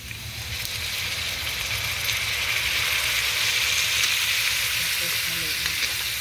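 Soy sauce goes into a hot pan and sizzles loudly and steadily, a dense crackling hiss that keeps going at close range, with faint stirring underneath.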